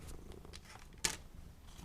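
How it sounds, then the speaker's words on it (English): A cat purrs steadily and softly close by, a low continuous rumble, with one brief sharp noise near the middle; no one speaks. "And my cat's in the way too, so that's making things even harder."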